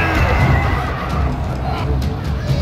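Sipahi horse cavalry charging in the video game Medieval Total War II, a dense, steady roar of galloping hooves and whinnying horses that runs loud and continuous throughout.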